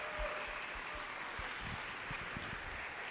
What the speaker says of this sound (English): Let's give a round of applause to all of the coaches and mentors.